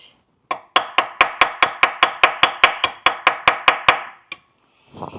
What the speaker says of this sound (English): I really like this Milwaukee right angle impact for this job